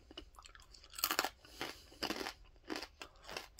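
Close, crisp crunching of Jalapeño Cheddar Corn Nuts being chewed, several sharp bites followed by rhythmic grinding, fairly quiet and without speech.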